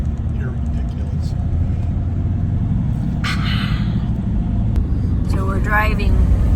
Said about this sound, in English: So we're driving from Rincon to Puerto Vallarta